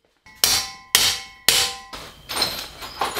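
Five or six sharp metallic hammer blows on a BMX bike part ring out one after another, each strike clanging with a bright ringing tail, close and loud with no talking.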